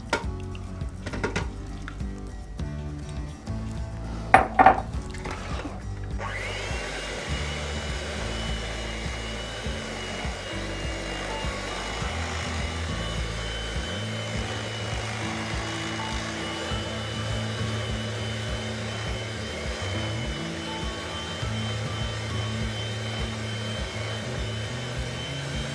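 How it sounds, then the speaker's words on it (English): Whipping cream being beaten thick for a no-bake KitKat cheesecake, with a few clatters at the start and then a steady droning mixer whir running continuously. "now we're gonna add the whipping cream. You need to work this till it's whipped nice and thick."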